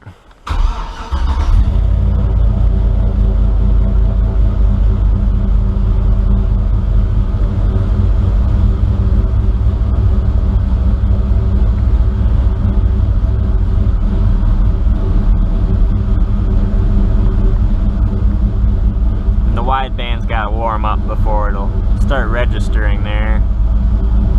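A Chevrolet C1500 pickup truck starts up and then runs with a loud, steady, close engine drone, and someone talks briefly near the end.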